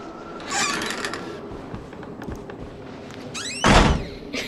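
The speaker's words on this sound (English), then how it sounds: "Let me just slam this door." A door slammed shut in the horror game Outlast: a creaking stretch followed by a sharp, loud thud near the end, heard alone without talk.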